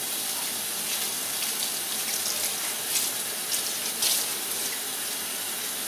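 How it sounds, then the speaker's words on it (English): Hot water running from a kitchen sink tap to rinse soap out of a container, a steady close hiss and splash with a few brief surges as the stream hits the item. "Turn off the cold so I just have hot. Give it a quick rinse."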